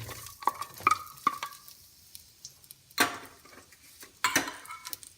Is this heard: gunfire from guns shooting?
no